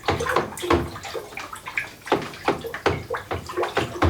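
Yeast is stirred into a homemade vodka mash, making rhythmic liquid sloshes about twice a second, close and fairly loud, with a watery gurgle between strokes.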